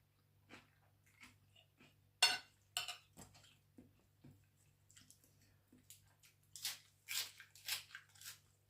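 Someone eats a Thai spicy pounded cucumber salad with salmon, giving several close, crisp bites and crunches with soft chewing and a few utensil clicks, the loudest crunches bunched toward the end, over a low steady background hum.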